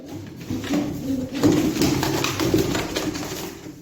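Breeding pigeon pairs coo in a loft, a steady run of low, soft, overlapping coos close by with faint rustling and no talk.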